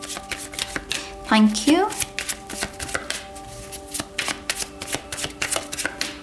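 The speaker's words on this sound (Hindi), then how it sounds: "तो टैरो को शफल कर लेते हैं ऑप्शन 1 के लिए" Tarot cards being shuffled close up, with a run of crisp riffling flutters and sharp slaps and taps, while someone speaks briefly over them.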